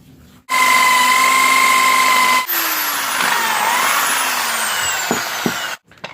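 A loud, steady whine of a power drill running continuously for several seconds, boring into a metal motorcycle engine part, with the pitch shifting as it bites into the hard material.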